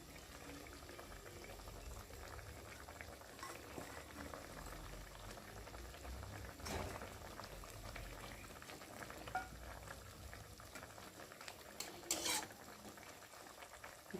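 Pabda fish curry bubbling and simmering in a pan, a quiet continuous boil with soft spluttering, plus a few clinks of a utensil against the pan near the end.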